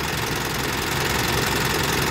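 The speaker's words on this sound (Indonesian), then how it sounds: "Teman-teman dengar suara engine valve nya" Mitsubishi Triton GLS diesel engine idling with valve clatter from maladjusted valves, a steady close ticking rumble that runs evenly throughout.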